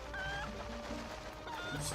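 Chicken clucking in the video game The Legend of Zelda: Twilight Princess HD, short repeated clucks over a steady game music bed, fairly quiet.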